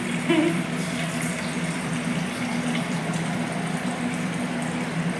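Drinking water pours steadily into a vessel in a home kitchen before a meal. It is a continuous, fairly loud gushing wash that holds even from start to finish.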